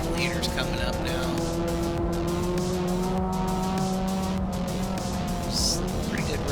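Dirt track race cars roar around Montpelier Motor Speedway during a memorial race, a steady dense engine drone with rising passes, while a voice talks over it.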